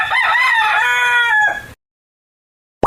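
A rooster crowing in a kids' farm-animal puzzle video game, one loud, close cock-a-doodle-doo lasting about a second and a half, then silence.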